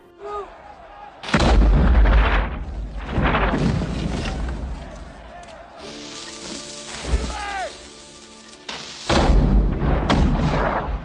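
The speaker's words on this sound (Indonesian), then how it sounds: "tentara Prancis sudah menyiapkan serangan meriam dengan peluru yang lebih besar" Cannon fire in a battle scene of a war film, with French troops firing larger shells at a fort: several heavy booming blasts in bursts with rumbling low end, loud and close, separated by quieter stretches.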